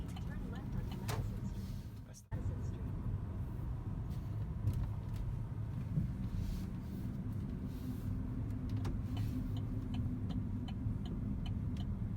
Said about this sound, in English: Ready to drive this electric vehicle.